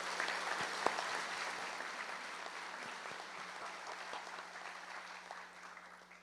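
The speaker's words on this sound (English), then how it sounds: "Let's give these students a round of applause" Audience at an annual meeting applauding students, a steady wash of many hands clapping that tapers off slowly, moderately distant.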